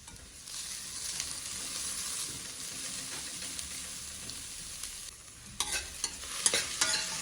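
Carrots, onion and broccoli are stirred and sizzle in a hot frying pan, a close, steady hiss of frying with scraping and clinks of the spoon growing louder toward the end.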